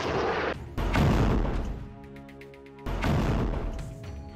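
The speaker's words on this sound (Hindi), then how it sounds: "हिजबुल्ला ने कत्यूशा रॉकेट का एक जत्था फायर किया" A Katyusha rocket barrage being fired makes loud, close, roaring blasts in two heavy bursts separated by a ringing, fading lull with scattered sharp cracks.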